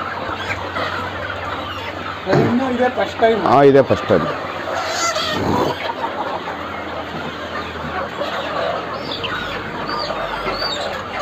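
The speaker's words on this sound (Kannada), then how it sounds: "ಇದು ಮಾಮೂಲಿ ನಾಟಿ ಕೋಳಿ" Native country hens clucking on a poultry farm in Koratagere, Tumkur, with a burst of loud, busy calls near the start, then steady clucking and chatter that continues under someone speaking.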